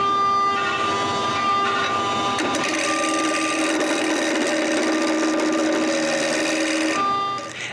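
Wooden Christmas ball being turned on a lathe, a steady whirring hum with tonal whine and scraping cutter noise running nearly continuously for about seven seconds before stopping abruptly, with no talk.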